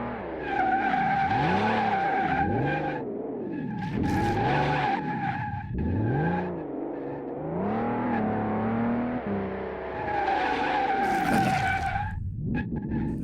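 Car tires screech and skid on a test track in Car Mechanic 2018, a continuous loud squeal rising and falling in waves over the engine's whir as the car slides through turns.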